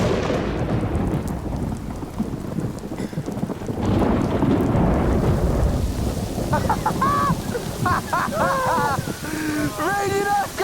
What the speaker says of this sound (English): It's bloody thunder!